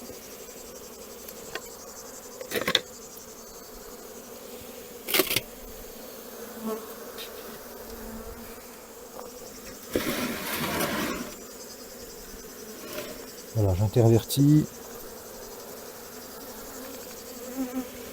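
Honeybees buzzing around open hives as a beekeeper merges several nucleus colonies before wintering, a steady low hum with individual bees zipping past the microphone now and then, and a brief spoken remark partway through.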